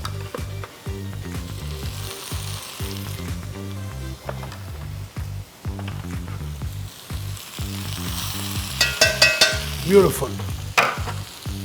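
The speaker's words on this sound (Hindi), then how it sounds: "और अब हम इसमें डालेंगे हमारे लैम्ब शैंक." Lamb shanks fry and sizzle in a pot of cooked spices for a Champaran-style Bihari mutton curry, a steady crackle under rhythmic stirring, with a brief spoken word near the end.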